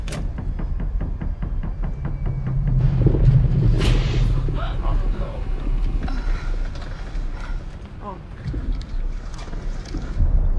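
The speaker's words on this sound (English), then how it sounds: "I'm starting the APU." An aircraft auxiliary power unit starts up, a rising mechanical whine and rumble with clicks and spool-up tones, with cabin voices audible over it.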